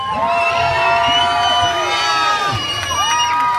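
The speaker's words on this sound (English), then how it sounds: "Give us a big cheer." A dense outdoor crowd of adults and children cheers, whoops and shouts in welcome for Santa Claus at a Christmas carnival in Tramore, a loud, sustained wall of voices with high children's squeals rising throughout.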